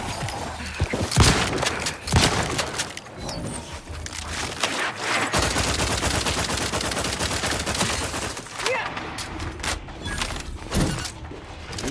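Dense, continuous gunfire from a sci-fi shooter game, The Outer Worlds 2, with rapid automatic bursts, sharp single shots and impacts layered together, loud and unbroken for the whole stretch.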